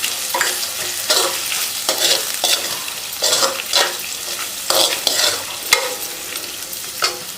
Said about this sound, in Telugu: ఉల్లిగడ್డలు కూడా మంచి ఫ్రై అవ్వాలండి